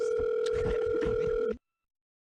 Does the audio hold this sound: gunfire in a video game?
no